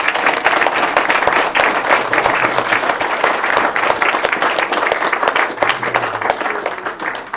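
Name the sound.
audience applause for the volunteers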